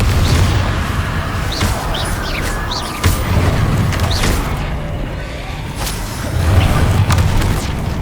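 Confringo fire spell explosions in the video game Hogwarts Legacy, several booming blasts and crackling impacts punctuating steady combat noise.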